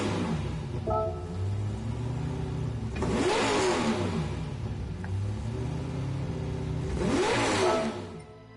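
A 1200-horsepower Nissan Sylvia engine in Gran Turismo 7 idles with a rough, lumpy rumble, then revs hard twice, each rev swelling into a rising and falling roar before dropping back to idle.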